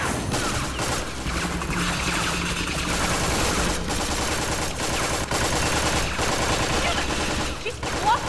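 Gunshots ring out during a bounty hunter chase in Tales from the Borderlands, a loud, continuous barrage of rapid shots and impacts with clattering mechanical noise throughout.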